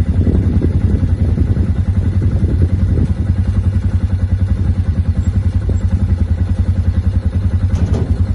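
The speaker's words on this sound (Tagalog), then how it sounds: "isang video ng kanyang pagsakay sa motorsiklo nang nag-viral sa buong social media" A motorcycle ridden along a road gives a steady, loud, rough engine drone with a rapid thumping pulse and some clatter throughout.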